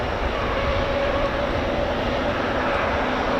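A Vertical Aerospace VX4 electric VTOL aircraft flying at an airshow arrivals day at RAF Fairford, heard as a steady, continuous broadband whir and hum with no breaks, fairly loud and even throughout.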